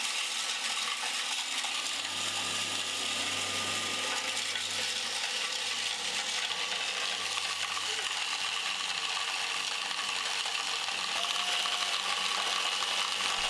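An olive grinding machine in Spain runs steadily as olives are crushed for olive oil, a continuous mechanical whir and rattle with a low hum, heard close without talk.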